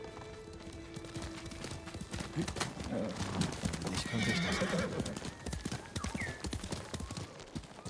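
Horse hooves clip-clop in a steady rhythmic trot in the video game Ghost of Tsushima, with a horse whinnying partway through and a voice speaking briefly over the hoofbeats.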